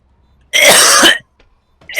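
One harsh cough or throat-clear sounds close to the microphone and lasts about half a second, with silence after it. A second cough starts just as the clip ends.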